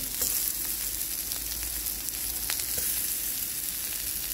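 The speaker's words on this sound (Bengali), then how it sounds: "তেল গরম হয়ে আসতে আমি কাবাবগুলো এবার ঢেলে নিচ্ছি।" Kebabs of bottle gourd and chana dal fry in hot oil with a steady, close sizzle throughout, and faint spoon scrapes break in now and then.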